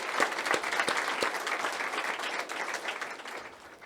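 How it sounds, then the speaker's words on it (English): An audience claps at a college teaching and learning center's grand opening ceremony, a full, even burst of applause that starts strong and slowly tapers toward the end, with no voices over it. "So just please give everyone a big round of applause."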